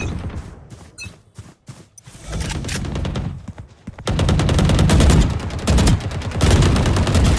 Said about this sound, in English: Shooting while moving.